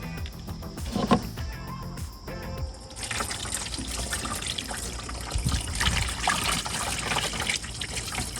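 Washer fluid pours through a funnel into a car's reservoir, a continuous close liquid trickle and gurgle that starts after a few seconds of handling noise and runs steadily to the end.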